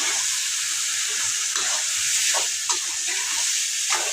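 Goat tripe (boti) spiced with plenty of chilli powder sizzles steadily in a pan as it is mixed, with a constant hiss and a few scraping clatters of stirring, close and alone without talk.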